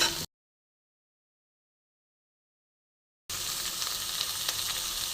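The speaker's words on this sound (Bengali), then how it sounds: "এবার আমি কিছু আলু এর মধ্যে দিয়ে দেবো, লম্বা করে কেটে রেখেছি আলুটা। এবার একটু আমি এর সঙ্গে ভেজে নেব।" Long-cut potatoes frying in oil with garlic, black cumin and onion, a steady close sizzle that starts after a few seconds of silence, with no talk.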